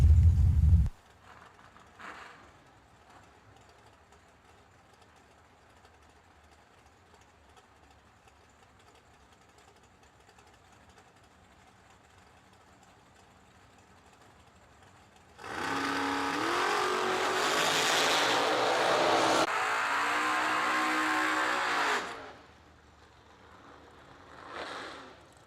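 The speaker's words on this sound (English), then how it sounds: "He taking on Mr. Cody McDaniel in the blower car, making all the noise." Supercharged blower drag car at an old-school bracket race, a loud broadband engine roar that surges for several seconds mid-clip after a long stretch of quiet ambience, then cuts off abruptly.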